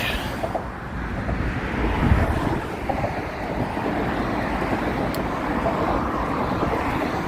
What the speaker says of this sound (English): It's a little noisy because of the traffic